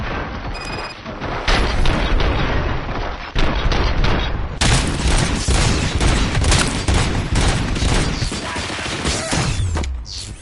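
Loud, dense video game gunfire and booming explosions during a station battle, with rapid overlapping bursts and heavy blasts filling the whole stretch with almost no pause.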